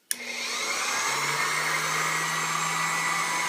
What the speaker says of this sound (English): This machine cuts really nice and really smooth.